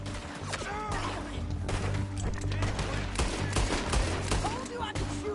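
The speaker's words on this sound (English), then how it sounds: "Told you I could shoot a gun, didn't I?" Sadie fires a gun in Red Dead Redemption 2, a rapid, dense volley of loud shots and crashing impacts mixed with game noise.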